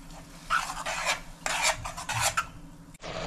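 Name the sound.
stir-frying masala with water for mutton ghee roast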